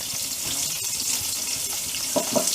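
Garlic frying in a pan with green chillies for a Maharashtrian amaranth-stem bhaji, giving a steady, fairly loud hiss and sizzle with a few brief clinks and stirs near the end, and no talk.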